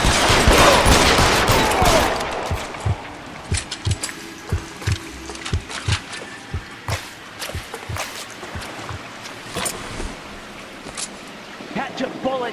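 Gunfire in the crime video game L.A. Noire: a loud burst of shooting opens, then a string of sharp, separate shots and mechanical clicks follows at irregular intervals, with voices talking over parts of it.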